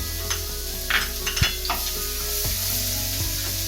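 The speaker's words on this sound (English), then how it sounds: "Give it a nice saute, stir it." Chopped garlic, about ten to twelve pods, sizzles in hot oil in a pan over a high flame, with steady frying crackle and occasional scrapes and clinks of a stirring spoon against the pan.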